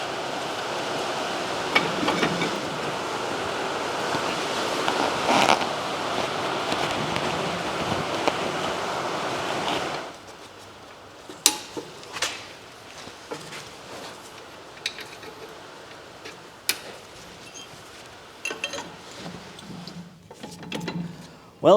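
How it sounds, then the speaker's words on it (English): Heavy rain hisses as a dense, steady wash for about ten seconds, then drops to a much quieter background with scattered clicks and knocks from work on a Deutz 6006 tractor. "It just started raining a whole lot, so that's the noise you're hearing in the background."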